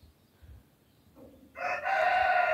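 A rooster crows once, loud and close, after a quiet start with faint rustling, the call swelling in and holding strong to the end.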